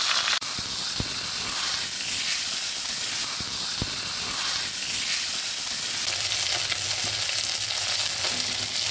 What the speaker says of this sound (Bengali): কড়াইতে তেল দিয়ে নুন হলুদ দিয়ে মাছের মাথাটা ভেজে নিচ্ছি